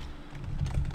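Fast typing on a computer keyboard while coding, a continuous muffled patter of key presses, close and steady, over a low background hum.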